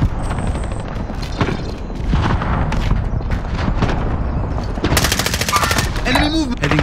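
Automatic and single gunfire in the Warzone battle royale video game, bursts of rapid shots and booms running throughout over dense game sound, with voice chat talking over it.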